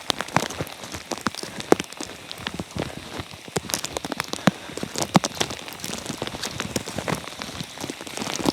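Hailstones falling on a single-track road on the Scottish isle of Raasay, a dense, steady patter of sharp hard impacts close by, with no talking.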